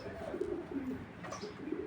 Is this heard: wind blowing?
no